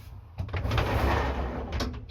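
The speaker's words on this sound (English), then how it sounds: "Sliding doors." A step van's sliding door, on a truck with its original GMC/Chevrolet 350 cubic inch (5.7 liter) engine, rolls along its track in a broad, steady rumble lasting about two seconds. It sounds close, with knocks at the start and the end.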